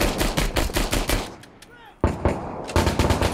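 Rapid bursts of RPK machine gun fire in the video game Six Days in Fallujah, loud and close, with a brief lull before the firing resumes.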